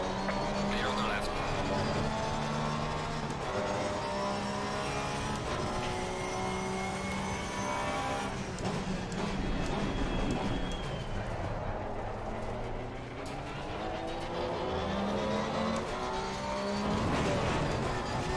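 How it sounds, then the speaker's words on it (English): Engine drone and harmonic whine of GT3 race cars at Zolder in Assetto Corsa Competizione, a faster car approaching and passing close by amid continuous racing engine noise, with a voice talking over it. "Faster car is approaching."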